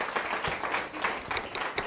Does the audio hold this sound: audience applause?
yes